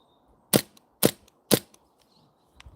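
Three sharp, evenly spaced shots from an airsoft gun fitted with an HPA SSQ adapter, firing BBs about half a second apart, close and crisp, with a small tick trailing each and quiet in between.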